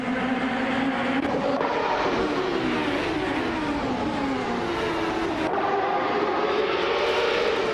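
Race cars, including a 1995 Penske PC-23, roar at high speed on a reverse high-speed ring circuit in a racing video game, a continuous loud engine drone with shifting pitch sweeps and no talk.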